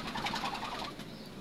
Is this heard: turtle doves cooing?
yes